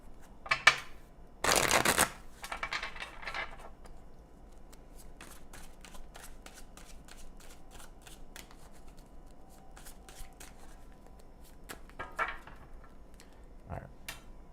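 Tarot cards are shuffled in a burst of crisp riffling, followed by scattered soft taps and flicks of cards in a quiet room.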